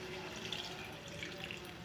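Hot water pours into a pot of chicken curry with coconut milk, a soft, steady, faint watery gush and trickle heard up close.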